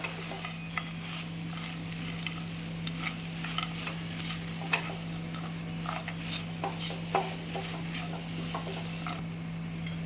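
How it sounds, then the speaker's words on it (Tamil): Mango chutney ingredients with peanuts get stirred in a pan, giving a soft continuous rustle and light scraping with a gentle sizzle underneath, with a low steady hum behind and no voices. "சும்மா லைட்டாக இது எல்லாத்தையும் ஒன்று சேர நல்லா மிக்ஸ் பண்ணிவிட்டு ஆற வச்சு அரைச்சிக்கலாம்"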